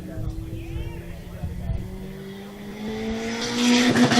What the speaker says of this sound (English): Fast entry speeds right off the limiter for Evan